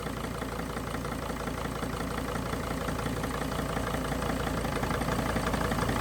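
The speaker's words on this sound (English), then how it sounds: "that's misfiring a lot worse than cylinder number 3" A Mercedes Sprinter diesel engine idles with one glow plug disconnected, giving a steady, close, rough running drone with an uneven knocking pulse that suggests a misfire, with no talking over it.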